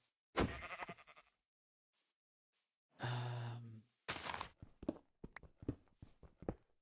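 Sheep bleating in the Minecraft video game, a few separate bleats with quiet gaps and soft game footstep-like sounds between them, no talking.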